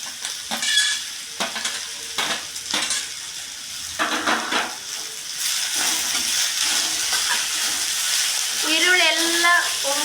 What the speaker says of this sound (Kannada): ಈರುಳ್ಳಿ ಎಲ್ಲ ಒಮ್ಮಣ್ಣ ಬರೋವರೆಗೆ ಫ್ರೈ ಮಾಡೋಣ